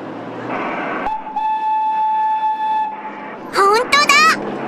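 Diesel-powered tourist train built to look like a steam locomotive, the Botchan Ressha in Matsuyama, Ehime, sounding a long steady whistle followed by two short warbling toots, with talk and rail noise around it.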